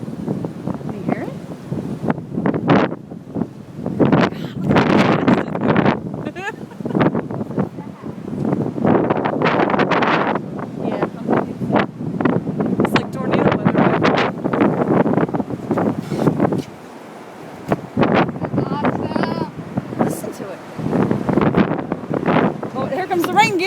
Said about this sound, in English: That's what it is we're hearing, is the rain.